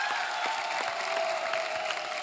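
Steady applause from a studio audience on a TV comedy show, a dense continuous patter of clapping filling the whole stretch at an even level with no talk over it.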